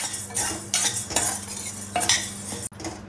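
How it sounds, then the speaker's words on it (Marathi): Chana dal is stirred in a pan over low heat, a utensil scraping and rattling through the dry lentils in uneven strokes, close up with no talking. "मंद आचेवर ढवळून घ्यायची."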